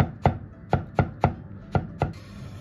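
A knife chops eggplant on a cutting board in seven crisp, evenly spaced strokes, close and clear with no voices.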